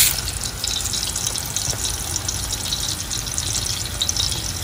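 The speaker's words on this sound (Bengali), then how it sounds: "এখন তাদেরকে আমি ভেজে নিচ্ছি হালকা ব্রাউন হওয়া পর্যন্ত" Bay leaves, broken cinnamon stick and fenugreek seeds fry in a pan for a beef curry, giving a continuous loud sizzle and crackle with no talking.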